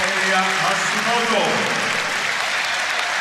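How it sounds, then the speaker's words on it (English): A large arena crowd cheers and applauds loudly and steadily at a track cycling world championships elimination race, a broad continuous roar with voices mixed in throughout. "the crowd give him a big cheer"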